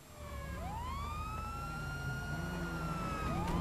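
Police car sirens wailing in GTA Online, several overlapping rising and falling tones sounding close and loud and continuing steadily over engine rumble, with no talking.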